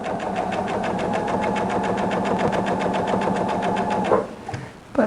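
A sewing machine back stitching a rag quilt, a fast, even mechanical rattle of needle strokes running steadily, then stopping abruptly near the end with a few handling clicks.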